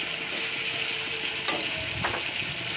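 Potatoes frying soft in oil in a pan for aloo dum give a steady close sizzle, with a couple of sharp utensil taps partway through.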